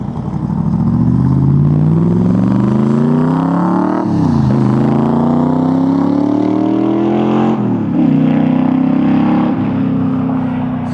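A green 1965 Backdraft Cobra sports car roars past up close. Its loud V8-style engine climbs through the gears in repeated rising pulls with brief shift breaks, staying strong and steady throughout.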